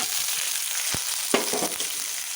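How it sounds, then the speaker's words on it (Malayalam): Chopped shallots and dried red chillies sauté in a pan for kozhukatta fry, a bright hissing sizzle with a few sharp spoon scrapes and taps partway through. "കൊച്ചുള്ളി ചെറുതായിട്ട് അരിഞ്ഞതും വറ്റൽ മുളകും കൂടി ഇട്ട് വരട്ടി"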